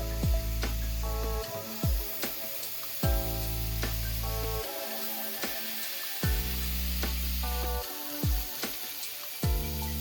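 Lean 85-15 ground beef patties fry in hot oil in a pan, giving a steady close sizzle broken by repeated thuds and scrapes as the pan is handled, with no voices present.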